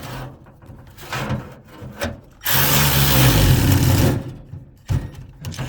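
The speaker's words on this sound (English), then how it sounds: "So just have to drill these out" Quarter-inch holes drilled with a power drill for stainless steel carriage bolts on a motorhome build: a loud, steady burst of drilling lasts about two seconds, framed by quieter handling and rubbing noises before and after.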